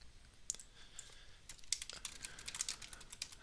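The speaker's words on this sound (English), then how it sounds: "Typing it." Someone types on a computer keyboard in a quiet, faint burst of irregular key clicks. The clicks start sparse and speed up into a busier, fast patter.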